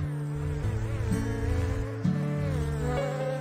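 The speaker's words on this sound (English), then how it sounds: "the bee beats its wings rapidly and gives off a buzzing sound" A bee buzzes steadily in flight, its droning hum shifting in pitch as it moves nearby, with no voices.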